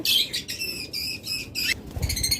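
Tame baby budgerigars and cockatiels chirp in a bird shop. Bright, rapid bursts of close chirping come in short repeated runs, with a brief rustle near the end.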